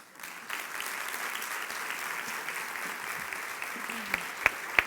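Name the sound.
audience applause after a talk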